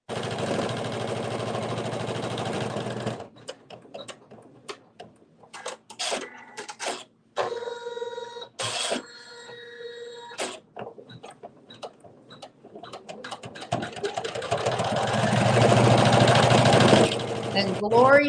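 A sewing machine stitches out a quilt bonus piece in a steady, fast mechanical whir, loud at the start and end, with quieter stretches of clicks and taps and a voice talking in between.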